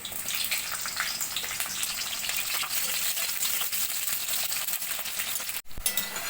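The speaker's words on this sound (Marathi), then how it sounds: "आता त्याच्यामध्ये आपण सुरुवातीला हा फ्लावर तळून घेणार आहोत." Cauliflower fries in oil in a kadhai, giving a dense, continuous loud sizzle with stirring scrapes, briefly cut off near the end before resuming.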